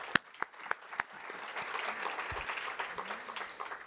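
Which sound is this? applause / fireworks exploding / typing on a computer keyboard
applause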